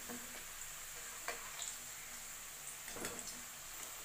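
Potatoes frying in oil: a faint, steady, close sizzle with a few soft clicks and scrapes, and nobody talking.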